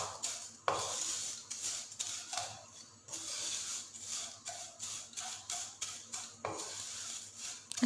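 Thin vermicelli (seviyan) frying in a pan and being stirred, heard as repeated close scraping strokes in a steady rhythm with a faint sizzle beneath.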